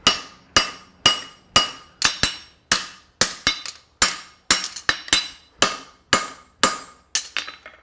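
Hammer blows ring out sharply on hot steel while a French hind horseshoe is forged and its web thinned, about twenty close, loud metallic strikes in irregular bursts with short pauses, each clang decaying quickly.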